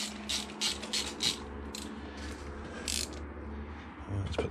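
Ratchet tightening a nut on an engine mount of an E8x BMW 1 Series, with rapid clicking bursts repeating close up over a low steady hum, no talk.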